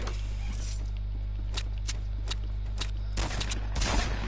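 Dual pistols firing in a video game, a run of sharp quick shots in uneven bursts over a low steady hum, with clicks and mechanical rattles between volleys.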